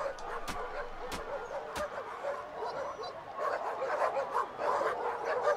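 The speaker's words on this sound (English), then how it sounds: "Go over there and get touched by the dogs." Dogs in the side-scrolling brawler River City Girls 2 yip and bark in short bursts over a busy game soundtrack, moderately close and fairly steady throughout.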